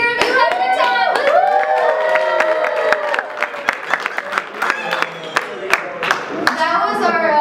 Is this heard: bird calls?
no